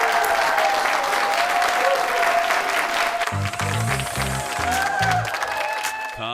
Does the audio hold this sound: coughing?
no